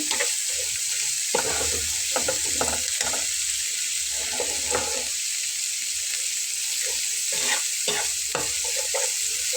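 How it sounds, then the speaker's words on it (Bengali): Food frying in a pan is stirred for a village-style home recipe, giving repeated scraping strokes over a constant loud sizzle. "পাঁচ মিনিটের মতো আর কি আমি এটাকে একটু নেড়ে ছেড়ে নেব"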